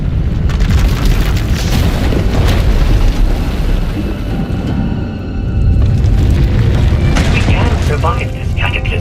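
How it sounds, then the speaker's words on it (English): A runaway power eruption tearing through an asylum in Star Wars: The Old Republic, a loud, continuous roaring blast with rumbling booms and crackles that carries on throughout while voices talk over it. "When it erupts, the entire asylum will be destroyed."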